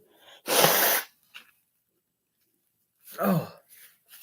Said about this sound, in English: It makes me sneeze when I'm full.